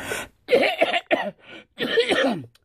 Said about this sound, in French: J'ai toussé exprès